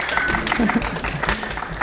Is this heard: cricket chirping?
no